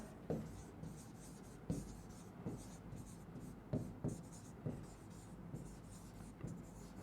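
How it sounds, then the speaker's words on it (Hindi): A pen writes notes during a classroom lesson, making soft scratching strokes with light taps at uneven intervals. The sound is faint and close, and a teacher talks over it. "तो लिख लेते हैं नैथोस्टोमेटा।"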